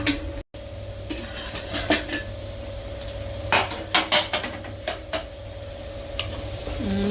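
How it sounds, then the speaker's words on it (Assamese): Spice paste for chicken curry frying in a pan, with a steady soft sizzle broken by clinking spoon-against-pan stirring strokes and scraping, close up, with a constant electrical hum underneath and no talking. "মছলা ভুনা হৈ গৈছে"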